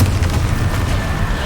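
A Confringo fire spell bursting in Hogwarts Legacy gameplay, a loud, dense, low rumbling boom that fills the whole moment with a rolling blast texture.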